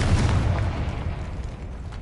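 A Confringo blasting spell goes off in the Hogwarts Legacy video game, a loud booming explosion with a heavy low-end burst that rumbles and slowly decays across two seconds, with no talk.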